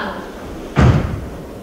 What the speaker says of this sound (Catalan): I tanca la porta!